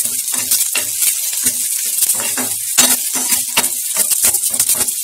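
Sambar ingredients for a tomato sambar sizzle in a little ghee, a bright steady hiss overlaid by rapid rhythmic scraping and clinking of a spoon stirring against the pan.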